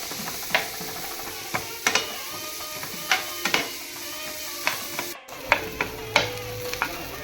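Onions sauté in a pan for Tamil Nadu–style paneer butter masala, with a steady soft sizzle broken by repeated sharp scrapes and knocks of a stirring utensil, close up.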